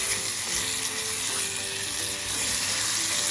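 Tomatoes with ground red chilli and salt frying in a pan for a spicy tomato chutney, giving a steady loud hiss of sizzling oil that stays unbroken and close.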